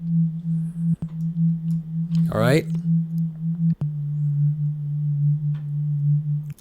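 Synthwave synth pad thickened with extra unison voices, heard as a steady low sustained tone with a slow wobbling swell. A voice briefly speaks over it partway through.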